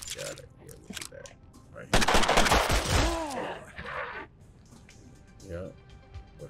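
A gunshot fired in the tactical game Mutant Year Zero: a loud blast followed by a burst of rapid fire lasting about two seconds, with a person talking before and after.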